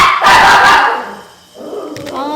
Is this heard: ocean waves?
no